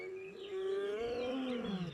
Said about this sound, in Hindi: मसाई मारा में रात को आपको लायंस की आवाज आती है